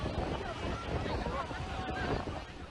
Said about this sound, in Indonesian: Inilah detik-detik angin kencang menerjang Desa Kamolan Blora Selasa siang.